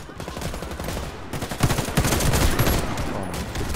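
Rapid bursts of automatic gunfire from the online shooter game Warface crackle through a firefight, with shots clustering into dense volleys that grow louder midway and continue steadily to the end.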